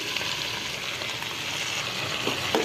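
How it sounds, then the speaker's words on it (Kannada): Mushrooms frying in a pan for mushroom masala, a steady soft sizzle that stays even throughout with a couple of faint stirring scrapes near the end. "ಮಶ್ರೂಮ್ ಸರಿಯಾಗಿ ಫ್ರೈ ಮಾಡಿ"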